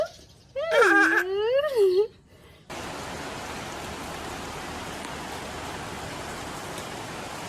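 Steady rain falls outdoors at the start of the rainy season, a dense, even hiss that fills the last five seconds after a voice speaks briefly at the beginning.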